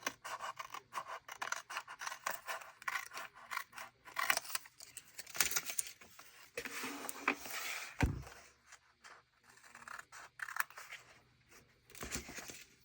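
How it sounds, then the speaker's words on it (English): Scissors trim paper pieces for a bullet journal, giving close, soft snips and rustling paper in a quiet, irregular run of cuts. "let's trim these all up"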